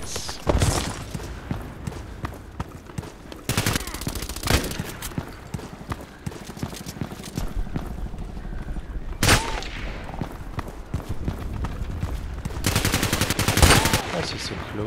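Kedr SMG gunfire in the online shooter Contract Wars, coming as several rapid automatic bursts of different lengths that are loud and close, with quieter in-game ambience and small sounds in between.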